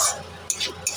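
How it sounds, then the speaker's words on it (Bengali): Semolina with curry leaves and green chillies is stirred in a pan, producing a couple of short, close scraping strokes with a faint sizzle underneath. "ভালো করে মিশিয়ে নিলাম।"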